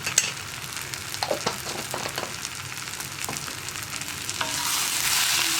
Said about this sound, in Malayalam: ഇതൊന്ന് നന്നായിട്ട് ഇളക്കി കൊടുക്കുക.